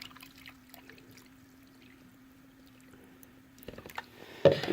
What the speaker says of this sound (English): So I get some more and pour some more water in there.